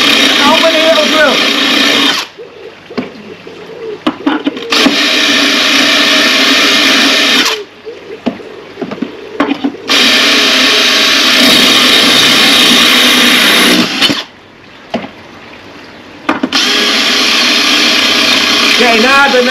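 A power drill bores holes in ceramic tile, whining loudly in long sustained runs that break off into short pauses with lower, rougher bits between, close and harsh throughout.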